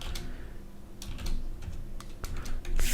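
Code being typed on a computer keyboard: a steady stream of close, light key clicks in uneven bursts, with a few louder strokes near the end and no talking.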